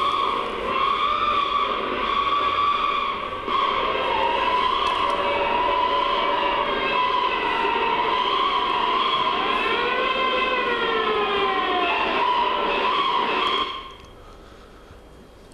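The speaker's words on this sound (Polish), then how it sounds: "Na przykład syreny straży pożarnej." A loud, steady fire engine siren wails with rising and falling tones, cutting off abruptly near the end to leave quieter background noise.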